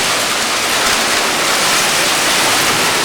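Hurricane Charley in 2004 lashes a street with sheets of wind-driven rain and storm-force gusts, a loud, dense, unbroken roar of pouring rain and wind that stays steady throughout with no voices.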